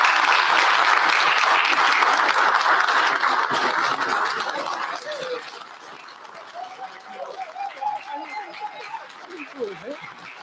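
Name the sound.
applause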